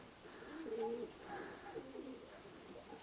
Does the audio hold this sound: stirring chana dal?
no